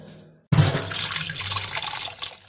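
Water pours into a bowl to soak cashews, melon seeds and poppy seeds together for a chhana kofta curry, a steady splashing run that starts suddenly after a brief quiet moment and continues close and fairly loud.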